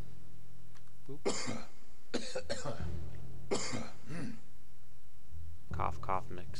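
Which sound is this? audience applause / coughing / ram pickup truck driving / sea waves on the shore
coughing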